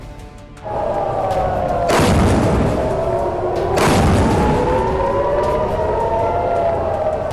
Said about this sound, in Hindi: यरूशलेम में लगातार खतरे का सायरन बज रहा है